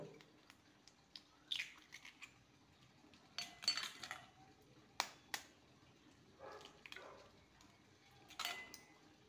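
Two eggs cracked into a bowl in a quiet home kitchen, heard as sharp, close taps and clinks scattered across the stretch, with brief shell and bowl knocks and soft handling noises between them.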